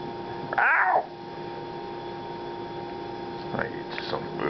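A cat gives a loud meow up close, then a second softer meow a few seconds later over a low electrical hum.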